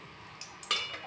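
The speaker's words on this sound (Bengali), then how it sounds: "এবার আমি এর মধ্যে গরম মশলাগুলো ফোড়ন দিয়ে দিচ্ছি।" Whole garam masala spices crackling in hot oil, with a faint sizzle and a few quick pops and stirring clinks, the loudest burst landing near the end.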